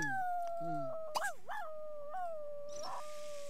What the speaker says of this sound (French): j'ai cru que c'était elle qui hurlait comme un chien